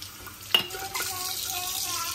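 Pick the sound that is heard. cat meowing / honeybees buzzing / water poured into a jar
water poured into a jar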